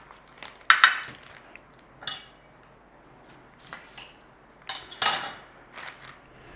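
Scattered clinks and knocks of a utensil against a dish while apple pie filling with cinnamon, lemon juice and sugar is mixed, several irregular sharp taps over a quiet background.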